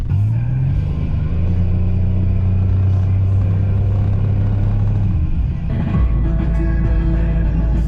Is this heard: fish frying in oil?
no